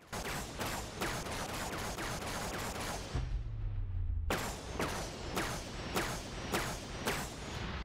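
A Covenant carbine from a Halo mod fires in the VR game Boneworks as a rapid series of sharp, evenly spaced shots with a brief reload pause in the middle, then more single shots in steady rhythm.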